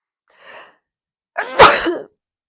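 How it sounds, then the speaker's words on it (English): A single person sneezes close by, a soft catching intake followed by one loud, sharp burst that trails off, with silence around it. "I have to sneeze"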